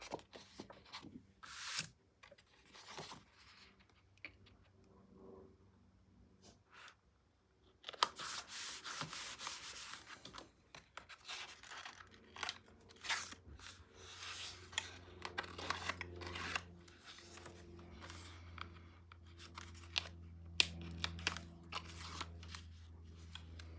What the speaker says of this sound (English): so I'm going to put some additional tape